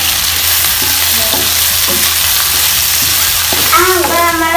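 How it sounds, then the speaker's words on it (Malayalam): Onion, garlic, ginger and green chilli sizzle steadily in a hot pan, with spatula stirring scrapes and taps over continuous loud frying, for a Kerala prawn masala puttu. "നമുക്കിനി വെളുത്തുള്ളിയും ഇഞ്ചിയും പച്ചമുളകും ഇടാം. ഇതൊന്ന് ഇളക്കാം."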